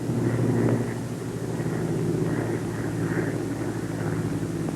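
Bell P-39 aircraft engine held at climbing power, a steady, droning propeller roar with a low rumbling hum, continuous and fairly loud from inside or near the plane, no voices.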